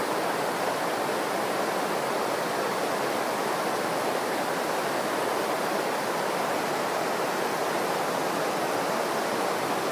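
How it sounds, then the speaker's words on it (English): Steady broadband rush of running water, like a stream or small waterfall, loud and continuous with no breaks for the whole stretch, close to the recorder. "the veiling effect of that running water"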